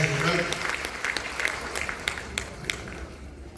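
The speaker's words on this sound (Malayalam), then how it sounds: "ഒരാൾക്ക് ഒരു ചാൻസ് ഉണ്ട്, നല്ലൊരു കൈയടി കൊടുക്കാം നമുക്ക്." An audience at a training session gives a round of applause, a dense patter of clapping that fades over a few seconds, with voices faintly underneath.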